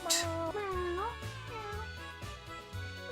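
A cartoon cat in the video game Traveling Cats gives a few short, grumbling meows with bending, rising-and-falling pitch over a soft, steady low backing tone.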